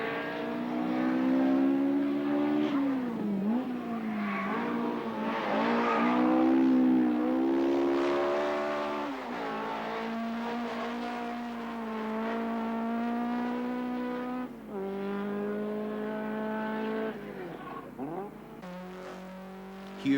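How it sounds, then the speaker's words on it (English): Greg Carr's high-set rally car races through a stage of the 1981 Castrol Rally of Canberra, its engine revving loudly and continuously with repeated rising and falling pitch as gears change, close and sustained throughout. "The high-set car of Greg Carr's, lifting wheels, lot of body roll,"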